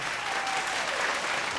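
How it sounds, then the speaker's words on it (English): Audience applause at a televised vocal talent competition, a steady dense wash of many hands clapping throughout, fairly loud and continuous with no voices on top. "Round of applause, please,"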